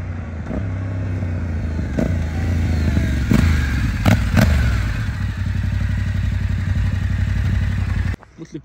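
A 2024 Yamaha Ténéré 700 motorcycle engine runs at a steady, loud idle with a rhythmic thumping beat and a few sharp mechanical clacks, then cuts out near the end.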